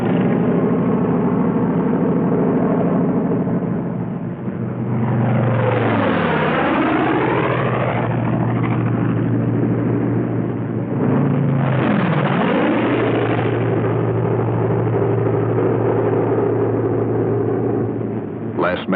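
Propeller engines of P-47 fighter planes drone loudly and steadily in flight, with two passes that sweep sharply down in pitch as the aircraft dive by.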